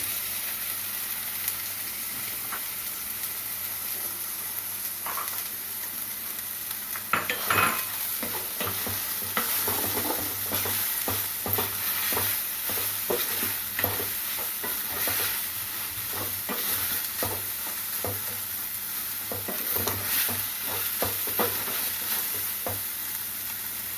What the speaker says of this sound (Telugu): ముందుగా చిన్న ముక్కల కింద పీసుల కింద కట్ చేసి పెట్టుకున్నాం కదండి, అవి ఇందులో వేసి వేయించేసుకోవాలి.